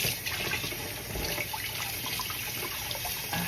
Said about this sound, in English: I take off the ends, right, like this, and then I run it under warm water so that it can clean off